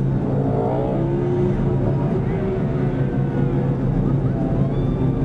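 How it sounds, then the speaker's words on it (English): A NASCAR race car running rich readies for a burnout, its engine a loud, steady, throbbing roar close by, with crowd noise blending in beneath. "here goes Jeff Gordon getting ready for the burnout"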